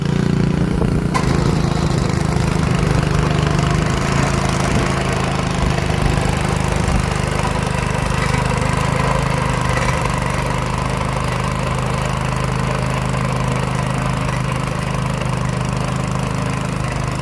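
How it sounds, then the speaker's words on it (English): A sod cutter's engine runs steadily and loudly throughout, a continuous low mechanical drone, while ground is cleared for drainage pipe under a driveway. "That sod cutter saves hours and hours and hours of work."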